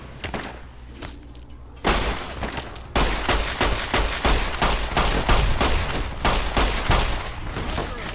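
Rapid 9mm pistol fire in a Fallout: New Vegas firefight, a dense run of loud, sharp shots and thumps that keeps going almost without a break.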